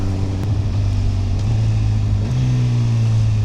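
A Honda CB1000 Hornet SP motorcycle engine hums steadily and loudly at close range, its pitch stepping down twice as the quick shifter changes gears, with no talking.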